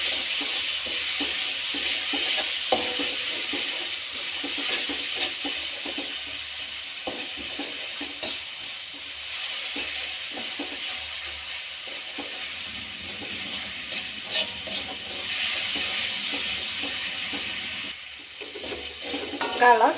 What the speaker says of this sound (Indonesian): Kalau sudah panas, kita masukkan bumbu halus. Tumis sampai harum.